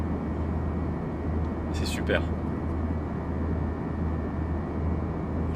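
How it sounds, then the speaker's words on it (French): Airbus A320 engines in the Fenix A320 add-on for the FS2020 flight simulator, heard from the cabin as a steady low roar and hiss throughout, with a brief whine sweeping down in pitch and a person talking briefly over it. "C'est hyper bien fait le bruit du moteur"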